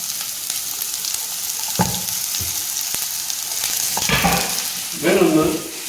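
Onions frying in olive oil in a pan, a continuous close sizzle with occasional stirring scrapes and a few louder bursts of crackling toward the end.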